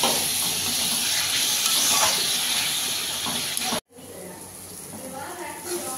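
Onion-ginger-garlic paste with cumin, coriander and Kashmiri red chilli powder sizzles and hisses loudly in a pan after a splash of water, a steady frying crackle that cuts off briefly near the end, then resumes softer.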